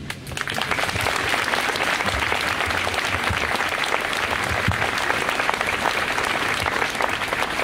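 A crowd at a public gathering applauds after a speech, with thick, continuous clapping that rises quickly at the start and keeps a steady, fairly loud texture throughout, with only faint murmurs underneath.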